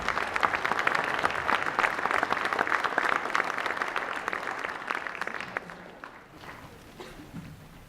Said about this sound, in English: Let's bring our panel back out. Lynn, Mike, and Dr. Shirvani, and give them a warm round of applause.